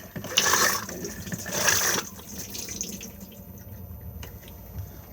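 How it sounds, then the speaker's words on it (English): A motorhome cassette toilet flushed by hand pump: two short bursts of water spray and splashing, close by, followed by quieter trickling and drips. "To flush, just pump."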